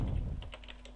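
Quick taps on a computer keyboard, a short burst of close, crisp key clicks in an uneven rhythm, with no voice.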